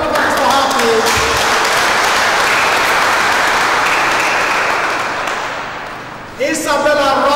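A crowd bursts into sustained, loud applause that fills most of the stretch, with a voice speaking over it at the start and again as it fades.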